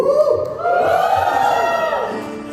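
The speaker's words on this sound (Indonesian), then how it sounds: "Sorak dulu." A church congregation at a JKI worship service cheers and whoops in a loud, sustained roar that swells and then fades over a couple of seconds.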